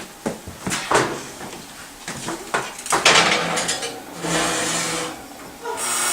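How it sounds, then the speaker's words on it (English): A lid is set onto a dish of crab dip among several sharp clinks and knocks of cookware, separate clattering hits in quick succession followed by a softer scraping settle. "Then put a lid on it."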